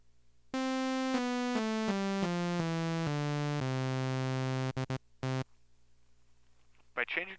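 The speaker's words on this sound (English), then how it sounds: "and there are sawtooth waves." A buzzy, harmonic-rich sawtooth-wave tone plays loudly through a speaker, stepping down through a series of held pitches, then cutting into a few short bursts before quiet and a brief voice at the end.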